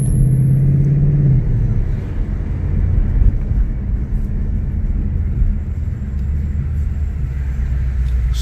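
A car cruises along the road, its engine and exhaust giving a deep continuous rumble that stays loud and close throughout, with no one speaking.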